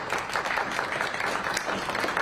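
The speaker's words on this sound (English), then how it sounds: "Let's give our panelists a round of applause." An audience at a town hall in Tulsa applauds panelists, a dense burst of many hands clapping steadily and fairly loudly for the whole stretch, with no talk over it.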